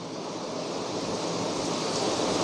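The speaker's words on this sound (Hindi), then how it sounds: "यहाँ बारिश हो रही है तो छत से पानी इधर चू रहा है।" Steady rain pours near a roof, with water dripping and running off the edge as a continuous close hiss of falling water, fairly loud and unbroken, with no voices.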